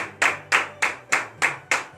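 A church congregation claps loudly in unison, about seven sharp, evenly spaced beats in a steady rhythm.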